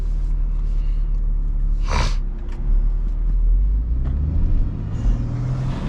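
A BMW M2 with a newly installed intake idles with a deep, close engine rumble, broken by one sharp rev and intake whoosh, followed by smaller throttle blips.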